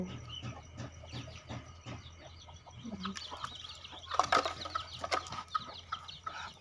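Ducks and chickens cluck and squawk in a busy farmyard, with several birds calling close by in quick bursts, one louder outburst midway.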